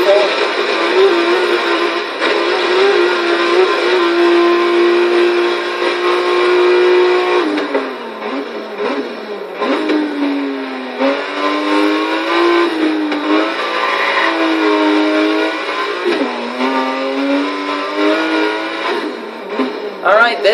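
2016 BMW M4 GTS engine in Forza Horizon 3, a loud, continuous high-pitched engine note that rises and falls through repeated revs and gear changes, with a voice talking over part of it.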